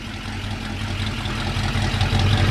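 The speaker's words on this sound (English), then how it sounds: "Exhaust sounds great." A 1956 Chrysler 300B hardtop's Hemi V8 idles with a deep, steady exhaust rumble, loud and close, holding constant throughout.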